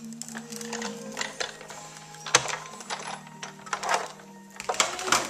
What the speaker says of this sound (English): I'm just going to send it through my Big Shot.